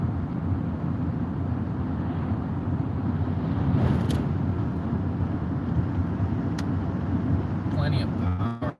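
A 2019 Duramax 6.6-liter diesel dually pickup truck drives along with a steady, low engine drone and wind noise that stays even throughout, then cuts off abruptly at the end.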